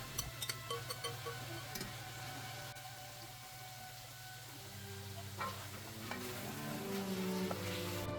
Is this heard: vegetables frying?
yes